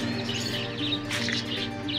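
Pigeons in a loft give soft chirps and coos in a few short bursts, close and fairly quiet, over a low steady background hum.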